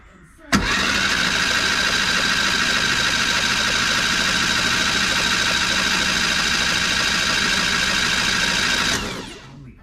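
A 1968 Renault R8 with a 1108cc replacement engine cranks over and spins steadily for about eight seconds, a loud, close, even mechanical drone that cuts off abruptly.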